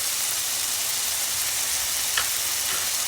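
Potato fry sizzles steadily in a pan with turmeric and chili powder, a constant hiss throughout with a faint scrape or two of stirring near the end.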